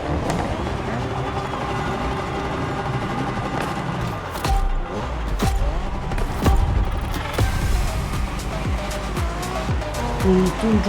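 A Honda NSX race car roars along in The Crew Motorfest, its engine note rising and falling, with sharp gear shifts and tire squeal toward the end, under game music and voices.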